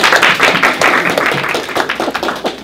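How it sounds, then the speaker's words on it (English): Workshop audience applauding, a dense patter of many hands clapping close by for a few seconds, with a few scattered voices mixed in. "Resounding applause."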